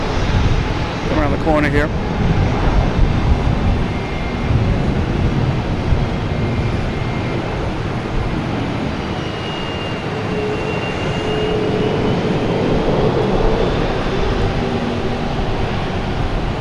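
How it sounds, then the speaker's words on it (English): An American Airlines airliner in the retro Astrojet livery passes at Boston Logan Airport, a sustained jet engine roar at moderate distance that runs beneath someone speaking. "here comes that American Airlines too, the Astrojet."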